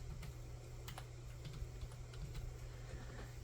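A name being typed on a computer keyboard, quick light key clicks in an irregular run over a low steady hum, fairly faint and close, with no talk.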